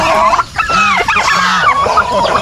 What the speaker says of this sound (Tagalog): nanunuklaw na ng ano sila dahil ngayon nag-aagawa na oh, so ayun yung mga sisiw natin